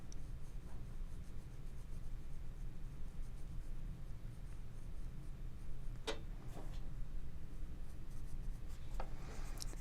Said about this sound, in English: So again, using the broad side of the pencil,